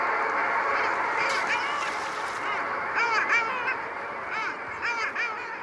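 A flock of long-tailed ducks calling in repeated nasal, yodeling bursts, several birds overlapping at moderate distance against a steady outdoor background at a lake.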